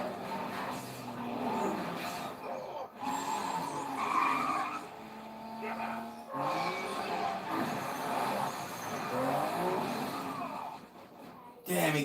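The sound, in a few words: car skidding and crashing in a race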